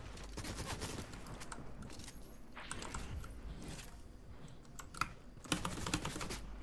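Gunfire in an online shooter, heard as rapid bursts of shots and sharp cracks, fairly faint, over a continuous low background with no talk.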